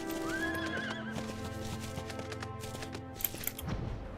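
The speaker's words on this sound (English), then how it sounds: "Let me just get on my horse here." A horse mount in a video game gives a clear neigh, then steady clip-clopping hooves follow, close and fairly quiet, with no talking over them.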